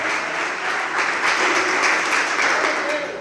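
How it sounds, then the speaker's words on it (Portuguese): A church congregation applauds during a worship service with loud, sustained clapping that swells midway. Voices mix in under the applause. "Você pode aplaudir o Senhor."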